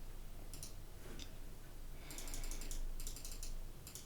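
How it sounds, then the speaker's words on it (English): Typing on a computer keyboard comes in quick clusters of light clicking keystrokes, with short pauses between bursts, close and fairly quiet over a low background hum with no speech. "So as it's a bit of typing"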